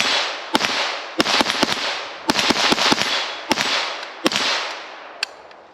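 An FN PS90 fires Fiocchi 5.7mm ammunition in sharp, loud shots, some single and some in quick clusters, echoing outdoors over several seconds.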